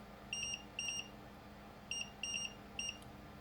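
A continuity tester beeps in short electronic tones while probing the soldered circuit of an old Mullard MAS 1001 radio from around 1950–53: two quick beeps, a pause, then three more, fairly faint.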